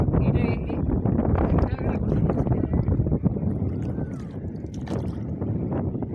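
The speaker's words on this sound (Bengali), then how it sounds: "এদিকে নৌকা আসছে একটা।" A boat draws near on a fast-flowing river, its low engine-like drone and water rush blending with wind buffeting, steady and close-sounding throughout.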